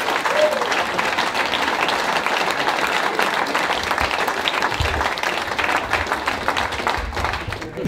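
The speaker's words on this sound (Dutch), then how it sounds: "Graag jullie applaus." Loud, sustained applause from a crowd at a royal honor presentation for a retiring fire brigade member, dense clapping filling the whole stretch with some bumps and handling noise underneath.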